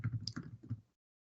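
Short run of quick keyboard clicks typing on a computer keyboard during a Microsoft Teams session, close and fairly quiet, lasting under a second before silence.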